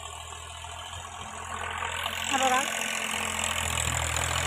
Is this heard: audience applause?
no